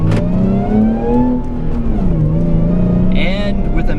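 A 2014 Jeep JK Wrangler Unlimited with a Sprintex supercharger on its Pentastar V6 and a manual transmission, engine pulling close and loud, pitch rising and dipping through gear changes, with a brief high whine near the end.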